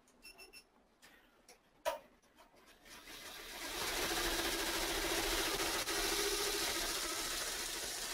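Avance embroidery machine starting to sew at 900 stitches a minute: a few clicks and a clunk, then a steady rapid mechanical whirr-chatter that holds loud and even, no voices.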